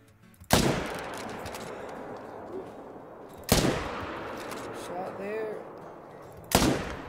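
Three loud rifle shots ring out in a hunting video game, spaced about three seconds apart, each a sharp crack with a rolling tail. A faint whistling game sound rises between the second and third shots.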